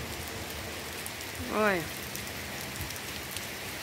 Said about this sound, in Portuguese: A chuvinha que tá caindo já tá.